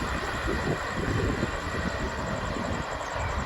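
A train rumbles with a deep, steady roar, loud and sustained as it approaches, with no voices over it.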